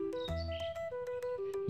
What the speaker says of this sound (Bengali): ওই যে একটা কোকিল ডাকছে শিশু গাছের মাথার দিকে